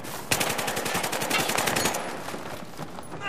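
Rapid machine-gun fire rattles out in Battlefield 3 multiplayer on Caspian Border, a dense, loud burst of regular shots lasting about two seconds before trailing off into echoing ambience.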